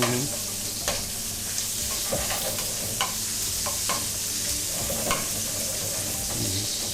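Pancetta and mussels fry together in a pan with a steady, loud sizzle, broken by occasional stirring clatters and shell knocks throughout.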